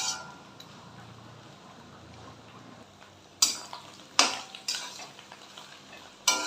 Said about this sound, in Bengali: একসাথে সব ভাজতে থাকবো নরম হওয়া পর্যন্ত আর ডিমটাও একদম যাতে মিশে যায়